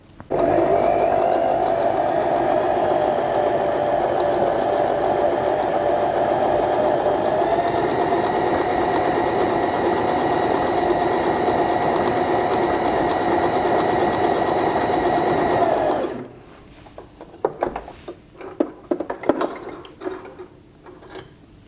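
A Janome Juno J15R sewing machine runs a checkerboard stitch, a loud, steady close motor whir with rapid needle rhythm for about sixteen seconds, then stopping abruptly, followed by a few faint clicks and handling noises.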